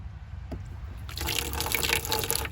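Water starts gushing from a repaired outdoor faucet after a brief quiet trickle, then runs steadily and splashes close by.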